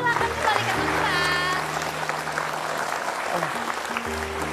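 Studio audience applause on an Indonesian television talk show during a veterans tribute, with a steady wash of clapping running beneath sustained musical tones and a few voices.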